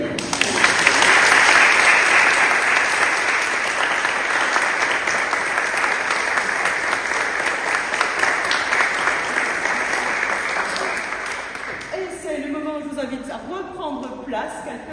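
A church congregation at a Sunday Protestant service in Mertzwiller applauds Soline after her baptism, with loud, sustained clapping that fills the room for about twelve seconds before fading into scattered voices and talk.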